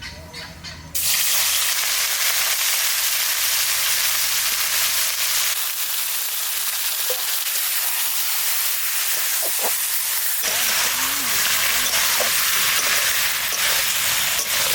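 Marinated country chicken hits hot oil spiced with bay leaf, dried chilli and cumin, bursting into a loud, steady sizzle after a brief quieter start and crackling on close by without pause.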